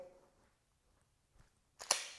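Pistol trigger clicking in dry-fire practice, heard as two sharp snaps close together near the end, after a quiet stretch with a faint soft tap just before them.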